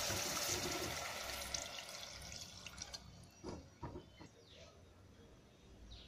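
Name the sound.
coconut milk being added to pulao in pot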